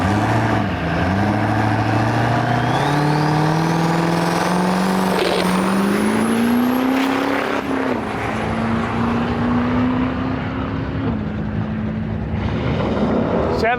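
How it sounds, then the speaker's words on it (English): A diesel truck accelerates hard at a large Canadian drag-and-drive event. Its loud engine note climbs steadily in pitch with audible shifts, roaring close and continuous throughout. "Good old diesel power."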